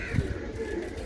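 Pigeons kept by a breeder, a single soft low coo close by amid faint background murmur, over in about a second.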